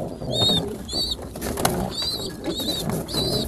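French meat pigeons, with young squabs nearby, give repeated soft coos and short high chirping calls up close, mixed with faint rustling in the loft.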